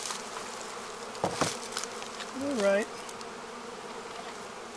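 Honey bees buzz faintly and steadily close by at a hive entrance, with a few sharp handling knocks and a brief rising squeak, while a person speaks briefly.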